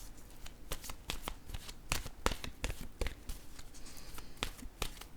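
An oracle card deck is shuffled by hand close to the microphone, with rapid irregular riffling and snapping flicks of the cards for several seconds, heard alone.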